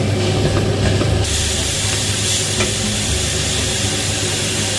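Pork loin sizzling in a frying pan, a steady dense crackle and hiss of hot fat carrying on without pause, close and fairly loud, with no talking.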